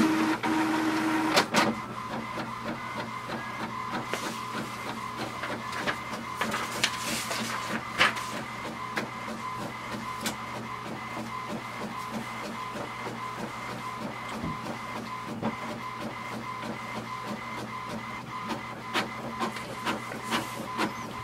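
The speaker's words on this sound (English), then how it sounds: "The printer is going to print now." An HP Envy 5055 inkjet printer prints a page, a steady mechanical hum with faint rhythmic whirring and occasional clicks and clunks as the paper feeds through, heard close and alone.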